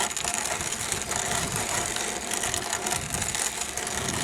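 A hand grain mill grinding blue Hopi corn into cornmeal, giving off a dense, continuous gritty crunching and rasping that stays loud and steady without a break.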